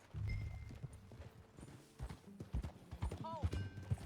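Horse hooves clip-clopping at a walk while riding in Red Dead Redemption 2, a close, uneven run of soft thuds with voices speaking over them and a brief whinny near the end.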